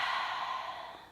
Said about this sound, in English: Breathe on in through your nose, and then out through the nose or the mouth.